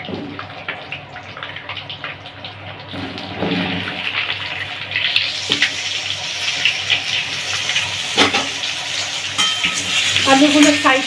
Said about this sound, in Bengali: আলুগুলো ফ্রাই করতে হবে একটু।